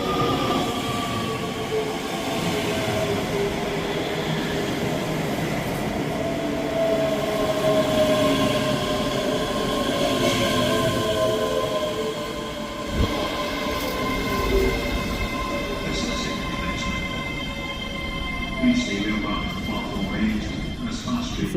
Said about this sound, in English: Arriving in now is the 11:52 Scotrail service from Dunblane to Edinburgh Waverley, 385102.